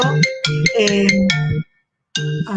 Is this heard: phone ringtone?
yes